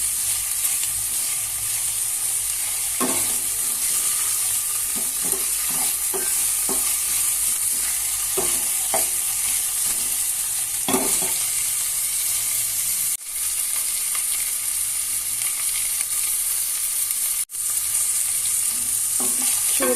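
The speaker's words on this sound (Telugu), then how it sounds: "చూడండి, ఉల్లిపాయలు అల్లం వేగుతూ ఉంది కదా." Onions with ginger-garlic paste fry in a pan for goru chikkudu curry, a constant close sizzle with occasional stirring scrapes and spoon knocks scattered through; no voices.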